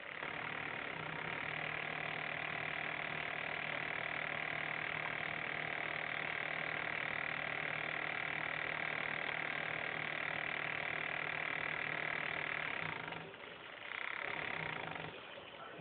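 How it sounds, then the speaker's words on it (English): Small DC motor driven by a 555-timer wireless controller, a steady close hum and whine that keeps running evenly, then dips briefly near the end. "as I decrease the knob, the motor speed will decrease."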